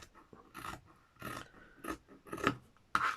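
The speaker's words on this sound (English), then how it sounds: "we are just going to cut a probably very unsquare square. Just going to trim the bottom off a bit." Scissors cutting fabric to trim a needle keeper book, five or six separate rasping snips at uneven intervals, close and fairly quiet, with near silence between cuts.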